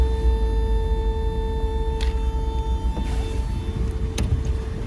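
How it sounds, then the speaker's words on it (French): A Mercedes 380 SL R107 with a V8 of about 105,000 km idles softly and evenly at close range, a low steady hum with a faint whine and a couple of light clicks on top. "même si on entend le ronron du V8"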